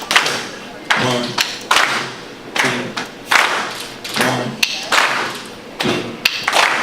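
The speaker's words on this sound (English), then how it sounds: "I want you to clap the backbeats with me." A crowd at a campaign office claps the backbeat together in a steady rhythm, sharp group claps landing about every 0.7 seconds while a voice talks over them.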